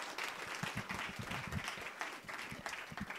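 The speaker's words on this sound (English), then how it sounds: "a round of applause for our amazing panelists" An audience at a women founders accelerator program launch claps steadily for the panelists, dense close applause from a roomful of people sustained throughout.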